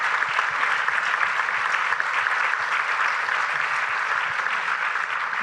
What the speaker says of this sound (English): I think we can make an applause for organizing this